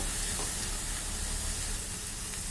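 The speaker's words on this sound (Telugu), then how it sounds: "ముందుగా కట్ చేసుకున్న ఆనియన్స్ని వేసేసుకుందాం ఇలాగ బ్రౌన్ కలర్ వచ్చేంత వరకు వేసుకోవాలి బాగా" Chopped onions frying in melted butter, a dense, steady sizzle close and even throughout, with no voices.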